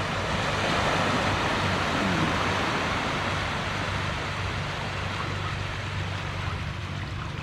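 Sea waves breaking at a beach in Baler where the sea meets a river, a continuous loud roaring wash of surf with gusty wind noise on the microphone and no voices.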